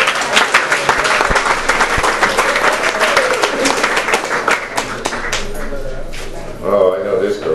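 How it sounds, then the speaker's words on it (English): An audience at a recovery group anniversary meeting claps for a member's one-year milestone, loud steady applause that thins toward the end, with a voice briefly heard near the close. "Let's give him a round of applause"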